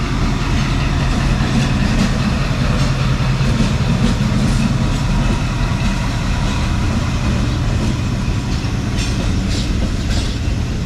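Jaffar Express passenger train hauled by a ZC20 locomotive rolling through Punjab, a loud, continuous rumble with rail clatter and wheel noise, steady and close throughout.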